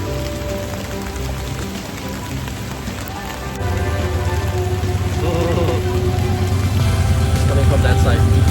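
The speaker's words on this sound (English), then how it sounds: "It's raining hard." Heavy rain pours down in Sri Lanka as a steady, dense hiss that swells louder partway through, with a low rumble beneath it. No voices stand out.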